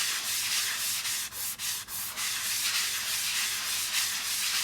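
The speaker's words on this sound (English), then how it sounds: "you go along your edge and you sand that." A Chalk Couture craft piece has its edge sanded by hand in soft, steady rubbing strokes, close and fairly quiet, with a few brief pauses midway.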